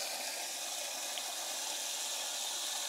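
Bone meal being stirred into water in a garden container, a continuous watery swishing and trickling hiss that holds steady throughout at close range.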